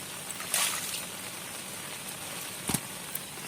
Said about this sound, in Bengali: আজ মনে হচ্ছে সারাদিন ধরে বৃষ্টিটা হবে।